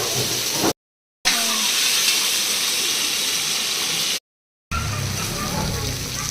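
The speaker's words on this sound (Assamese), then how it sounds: "ফুল জুইত ভাজি ল'ম আৰু 4 কেজি চিকেন একেলগে ভাজিব দিগদাৰ যে আমি এইখিনি 2 কেজিকে ভাজি ল'ম" About two kilograms of chicken frying in oil over a full flame: a loud, continuous broadband hiss and sizzle, cut by two short silent gaps.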